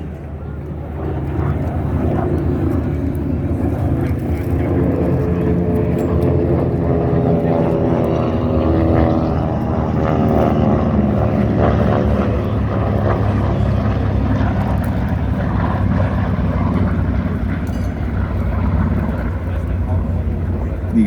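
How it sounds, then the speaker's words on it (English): A Vought F4U Corsair's big Pratt & Whitney R-2800 radial engine at an air show, droning steadily and loping along at moderate distance, with a commentator talking over it throughout. "You can just hear that big Pratt & Whitney 2800 in the Corsair. It's just loping along."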